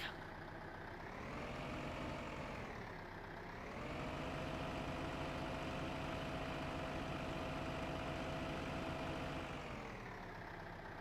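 A tractor engine idles in Farming Simulator 15, a steady low rumbling drone that dips briefly near the start and then holds at an even pitch, with no talking.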